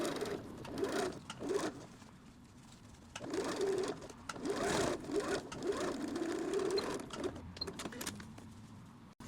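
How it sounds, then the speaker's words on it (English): A sewing machine stitches over a thick hem seam, running in bursts of steady mechanical whirring and clicking with short pauses, close and moderately quiet, as one voice talks faintly in the background. "I just went over the thick part of the seam and the machine barely even struggled."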